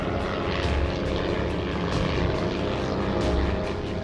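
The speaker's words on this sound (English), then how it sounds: "devoting all his resources into mass producing a new fleet of smaller and faster fighter planes" World War II propeller fighter planes fly overhead, their engines making a loud, steady droning roar with pulsing passes throughout, and no voices.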